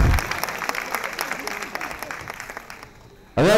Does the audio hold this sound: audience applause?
yes